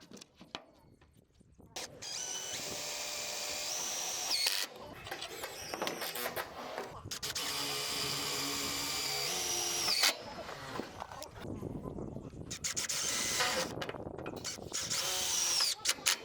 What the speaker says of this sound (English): I marked where the stats were so I could screw the board to them.